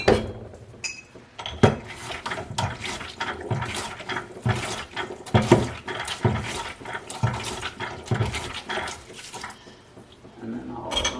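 Wine bottles being rinsed out with running water, with irregular splashing and sloshing mixed with glassy clinks and knocks, heard close and fairly loud throughout.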